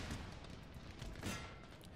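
Musket volleys and cannon fire from a Napoleonic battle in the strategy game Napoleon: Total War, a dense, continuous crackle of distant gunfire with a louder burst near the end, heard without talk.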